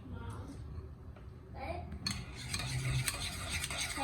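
Keto jalapeño popper filling being stirred in a bowl, soft scraping and clinking of a utensil that grows busier toward the end, with voices faintly in the background.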